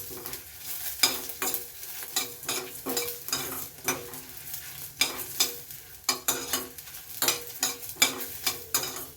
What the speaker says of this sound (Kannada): ಇದು ಮೆಂತ್ಯ. ಲೈಟಾಗಿ ಇದನ್ನು ಹುರ್ಕೊಳ್ಳಿ.